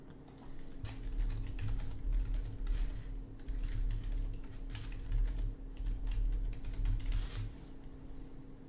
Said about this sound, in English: I was just typing to Renless about some stuff